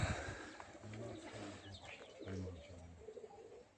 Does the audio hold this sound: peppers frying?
no